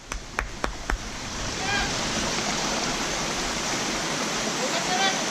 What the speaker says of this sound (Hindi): Here is the waterfall.